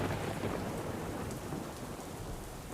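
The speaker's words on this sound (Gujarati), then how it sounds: "ગત રોજથી તાપી જિલ્લામાં અવિરત વરસાદ વરસી રહ્યો છે" Continuous heavy monsoon rain falls across Tapi district in Gujarat, a dense, even roar of downpour with no voices, holding steady throughout the brief stretch.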